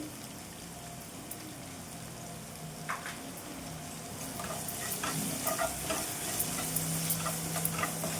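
Ridge gourd and peanuts frying in a pan with salt, a steady soft sizzle with occasional stirring clicks that grows a little louder partway through, no voices.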